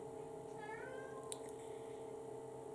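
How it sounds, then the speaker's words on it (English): A house cat gives a single rising meow at close range, soft against a steady background hum, in an otherwise quiet room. "I do apologise for the interruption from my cat Reaper."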